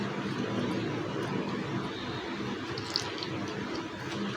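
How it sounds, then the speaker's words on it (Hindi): Water is poured steadily into a bowl of gram flour and egg omelette batter, giving a continuous close splashing pour that lasts the full few seconds without pause. "आप जो है इसके अंदर जो है वो पानी डालना है।"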